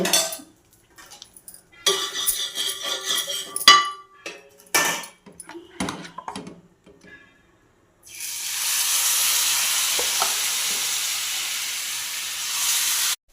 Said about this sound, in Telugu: ఇప్పుడు దీంతో అట్లేసి చూద్దామా?